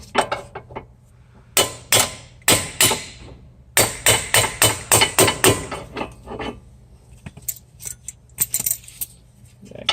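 A brass hammer taps front sway bar parts into place on an IS300 during a Hotchkis sway bar, relocation bracket and endlink install, giving sharp metallic knocks: scattered single hits, then a quick run of close, evenly spaced taps.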